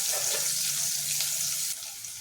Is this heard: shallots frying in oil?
yes